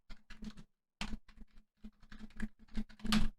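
Code is typed on a computer keyboard in short uneven clusters of soft, close keystrokes separated by brief pauses, quiet and without speech.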